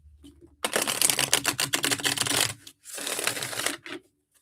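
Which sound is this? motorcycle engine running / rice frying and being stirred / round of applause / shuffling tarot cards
shuffling tarot cards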